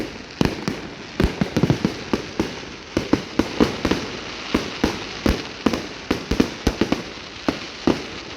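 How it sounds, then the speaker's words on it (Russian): Fireworks salute at a wedding rehearsal, a rapid string of sharp bangs and crackling bursts going off one after another with no pause, loud and close, with no voices. "Вот такой салют должен быть на свадьбе."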